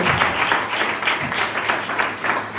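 A church congregation at a Pentecost Sunday service claps together, a dense, fairly loud round of applause that keeps going steadily throughout.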